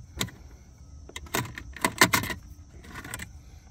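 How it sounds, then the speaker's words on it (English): Small clicks and scrapes come from a pick prying up a chrome trim bezel inside a Jeep Commander, with a few sharp close pops in irregular bursts and no talk. "I'm gonna pop this up, this little chrome trim bezel."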